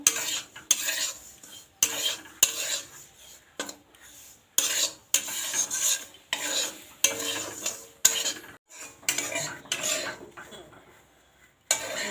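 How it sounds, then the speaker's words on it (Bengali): Semolina roasting dry in a pan for halwa, stirred with a metal spoon in a steady run of scraping, clinking strokes broken by brief pauses, with only a faint sizzle beneath. "সুজিটাকে ভালো করে লাল লাল করে নেড়ে নেবো"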